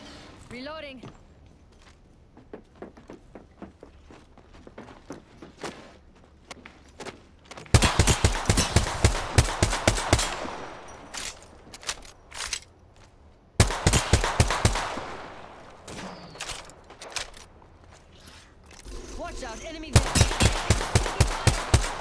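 Automatic weapon fire in the Apex Legends battle royale shooter: quiet scattered shots at first, then loud, rapid sustained bursts in three long stretches, with a player's voice talking over parts of it.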